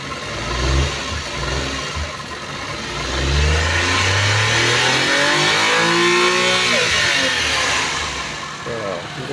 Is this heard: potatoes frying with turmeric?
no